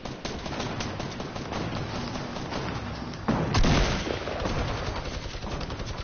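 Dense, continuous gunfire from a PS4 shooter video game, rapid bursts layered over one another with a heavy close blast partway through, filling the whole stretch at steady loudness.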